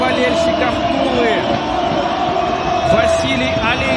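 A stadium crowd at a football match between SKA-Khabarovsk and Arsenal Tula roars and cheers after a goal in a dense, continuous wash of sound, with a commentator talking over it.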